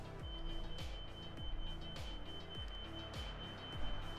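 An alarm goes off inside a house: a steady high electronic tone repeats with regular falling chirps about twice a second, continuous and moderately quiet, heard from another room.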